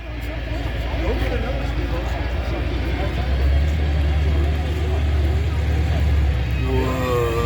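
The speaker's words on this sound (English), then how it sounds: "Monster trucks." Monster truck engines rumble at a county fair, a loud steady low drone running throughout with crowd noise and talk mixed in, and a higher engine tone rising near the end.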